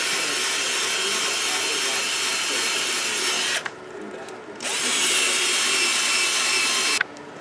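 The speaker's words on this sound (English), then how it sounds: "Now we're just going to buff it out until the haziness of the lens goes away." A powered buffing pad polishes rubbing compound across a hazy car headlight lens, a loud close whir that stops briefly midway, starts again and then cuts out near the end.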